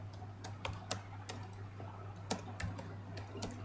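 Keys clatter on a computer keyboard as JavaScript code is typed, with quick, irregular keystrokes in short bursts. The clicks are close but quiet, over a low steady hum.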